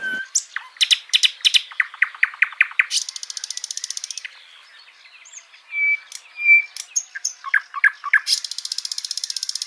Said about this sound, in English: Nightingale is a bird so the answer for number 8 nightingale is Option B, a singing bird